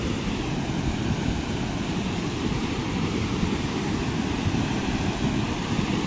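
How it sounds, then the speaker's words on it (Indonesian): Strong flash flood water rushes past carrying rocks and debris in a village river, a dense, continuous roar that stays loud and steady throughout with no voices. "ini banjirnya sangat kencang, sangat deras sekali ini"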